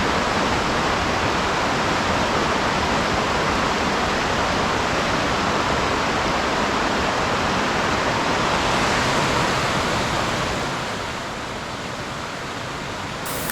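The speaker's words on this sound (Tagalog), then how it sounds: "may sapa at napakasarap pakinggan ang agos ng tubig" A stream flows behind a fence in winter, beside a house engulfed by ice, giving a loud, steady rushing hiss that continues throughout and eases slightly near the end.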